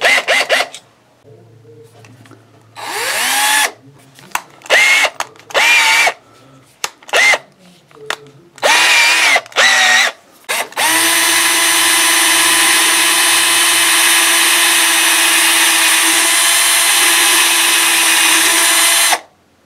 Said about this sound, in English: Drill the holes and hope you got those in the right place.